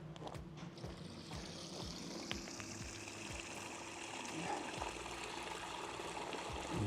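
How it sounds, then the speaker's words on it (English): A garden koi pond waterfall gurgles and splashes steadily close by, with a continuous broadband water rush and small intermittent drips and splashes layered over a low, steady hum. "Got some gurgling sounds out of it."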